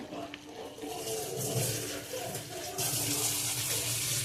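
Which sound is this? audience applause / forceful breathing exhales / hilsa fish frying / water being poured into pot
water being poured into pot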